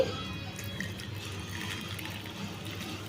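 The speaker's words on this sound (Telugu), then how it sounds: "ఇప్పుడు దీంట్లో వేడి నీళ్ళు పోసుకోవాలండి" Hot water pours steadily into a bowl of tamarind with a soft, continuous trickling splash, fairly quiet and close by.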